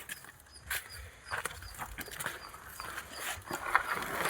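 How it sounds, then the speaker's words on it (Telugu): Small dogs moving about close by, with soft panting, faint whimpers and scattered scuffling sounds in short bursts, and no talk. "కుక్కలతో పెద్ద బాధ అయిపోయింది చిన్న కుక్కలు ఉన్నాయి"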